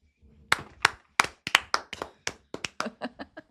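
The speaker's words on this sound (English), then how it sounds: "Clap if you agree." A small group of people clap their hands in agreement during a podcast recording, about a dozen sharp, separate claps in a loose, uneven rhythm, close and distinct, fading slightly toward the end with no talking.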